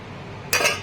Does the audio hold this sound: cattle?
no